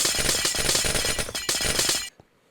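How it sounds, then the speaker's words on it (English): Blocks of ice shattering in Minecraft, a dense, loud run of glassy breaking crunches in steady succession that stops abruptly near the end, with no talking. "there is something so satisfying about breaking mass ice"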